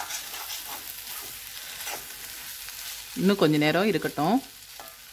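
Potato roast fries in a kadai with a steady sizzle while it is turned, and someone speaks briefly near the end over the frying.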